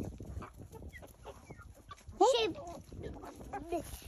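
Farmyard chickens with a rooster, scattered clucks and a sharp squawk rising midway, fairly faint and close, heard among quiet background talk.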